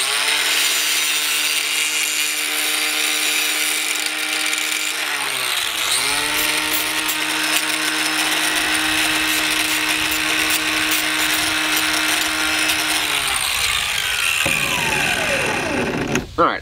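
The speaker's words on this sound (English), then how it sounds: "I just like to round the edges off, you know, take any burrs off that your line will catch." Power tool grinding down the edges of a homemade fishing dragging weight, a steady loud whine that dips in pitch as it bites into the metal, then winds down at the end.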